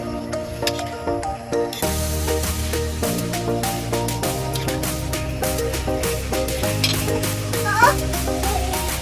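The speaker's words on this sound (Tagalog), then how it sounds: "Kailangan natin haluan ng konti para hindi dumikit yung munggo dun sa ilalim ng ating kawak" Mung beans simmering in coconut milk in a wok, stirred with a utensil, giving soft scraping and bubbling under a steady hum, with occasional clinks against the pan.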